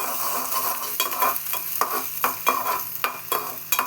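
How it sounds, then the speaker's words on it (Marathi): Ingredients for a toddler's poha khichdi are stirred and sautéed in a pan with a small spoon, giving a steady sizzle with repeated scraping strokes about every half second, close and moderately loud with no talking. "आणि त्याच्यामध्ये जाणार आहे ते चांगला परतून घ्यायचं मस्त एकदम"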